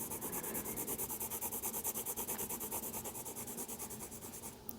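A colored pencil scratches steadily on paper in quick, rhythmic back-and-forth strokes, close and quiet, with no talking.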